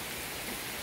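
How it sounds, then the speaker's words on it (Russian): A heavy downpour falls at a country house, making a brief, dense, even hiss of rain with no voices. "Релакс, звуки дождя."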